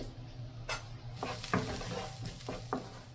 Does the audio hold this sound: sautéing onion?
yes